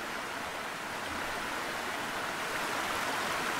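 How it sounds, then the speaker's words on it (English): A waterfall ambience in a Foundry VTT tabletop game rushes as a soft, constant hiss of falling water, even and unbroken throughout, fairly quiet with no talking. "that waterfall is getting louder."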